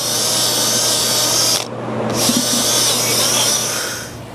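Power drill whirring loudly and steadily while spinning out a broken wooden dowel from a mid-century modern desk, briefly dipping in pitch midway before running on, no speech.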